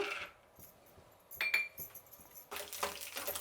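Peanuts tipped into hot oil in a home kitchen: a few light clinks and rattles first, then a sudden, dense sizzle and crackle that carries on to the end, fairly close.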